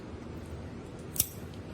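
Scissors make a single sharp snip through craft cording from Michael's, threaded on a tapestry needle, while a wool saddle pad for a model horse is being made. The cut is brief and close against a quiet room.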